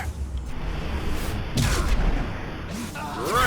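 Gunfire in Mass Effect 2 sounds as a few muffled blasts and booms rising over a rumbling battle bed, mid-distance and moderately loud, with brief voice fragments mixed in.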